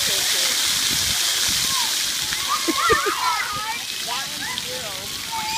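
Water sloshes and splashes continuously under a steady rushing hiss at a park in Lake Charles, Louisiana, with high-pitched voices and squeals of people playing close by.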